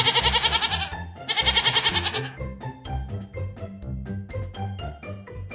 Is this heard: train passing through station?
no